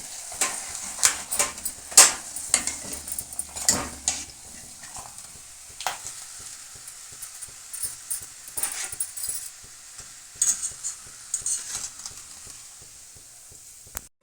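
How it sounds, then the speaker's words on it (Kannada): Rice papad fries in hot oil, a soft crackling sizzle with scattered sharp pops and occasional scraping clicks from a utensil, fairly quiet throughout. "ಇನ್ನೊಂದೆರಡು ಕರಿಯೋಣ ಚೆನ್ನಾಗಿ ಇನ್ನೊಂದೆರಡು ಕರಿಯೋಣ"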